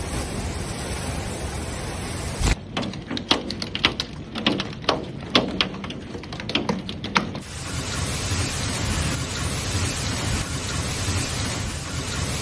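Overnight thunderstorm in Iowa with steady rain hissing throughout, broken by a burst of sharp crackling thunder claps and rumbles in the middle before the rain settles back to a continuous wash.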